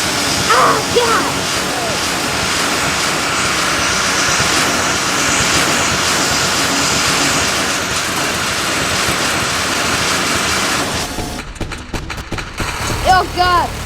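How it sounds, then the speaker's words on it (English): A helicopter in the video game Fruit Playground makes a loud, dense mechanical roar that holds steady for about eleven seconds and then cuts out, with excited voices reacting. "Bro, that's a helicopter!"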